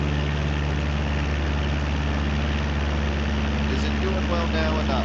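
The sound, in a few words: aircraft engines running in video game Microsoft Flight Simulator 2024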